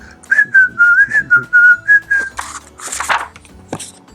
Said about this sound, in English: and he whistled all the way home.